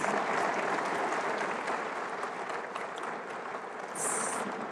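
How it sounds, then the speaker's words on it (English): Steady, dense applause from a large audience filling an arena at a college convocation in Pembroke, holding loud and even throughout with no talk over it. "let's give him a round of applause"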